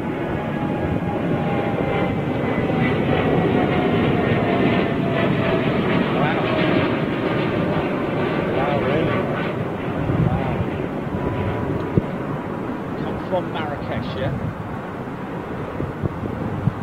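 A jet airliner at London Heathrow Airport produces a steady, loud engine roar with wind buffeting, holding for the whole stretch and easing slightly toward the end.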